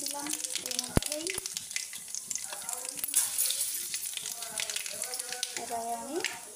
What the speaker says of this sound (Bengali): ওই তেলটার মধ্যেই আমি কালো জিরেটা দিয়ে দিচ্ছি